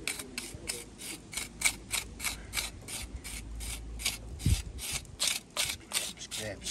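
Fresh mortar joints on a gable wall being scraped back during repointing, giving a steady run of short, crisp rasping strokes in quick regular rhythm, close by.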